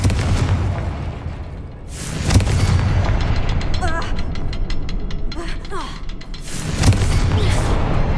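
Confringo blasting spell explosions in the Hogwarts Legacy video game, with loud booming bursts near 2.3 and 6.9 seconds over a dense, continuous game soundscape and spell effects.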